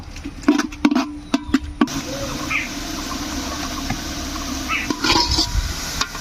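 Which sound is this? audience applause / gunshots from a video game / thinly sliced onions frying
thinly sliced onions frying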